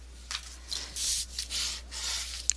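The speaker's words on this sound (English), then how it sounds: "So I'm going to burnish it" Paper for a photo album pop-up is burnished by hand, giving several short, soft rubbing strokes in quick succession, close and quiet.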